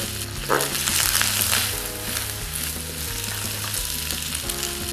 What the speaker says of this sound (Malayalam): ക്യാപ്സിക്കം ഒനിയൻ ഇട്ടതിന് ശേഷം നമുക്ക് നന്നായിട്ട് മിക്സ് ചെയ്തുകൊണ്ടിരിക്കാം